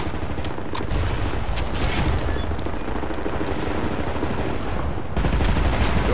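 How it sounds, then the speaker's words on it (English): Sustained suppressing gunfire from a Wolfenstein The New Order firefight, dense overlapping shots and bursts rattling continuously and loudly for several seconds with no talk over it. "Right, lads, you ready to lay down suppressor fire?"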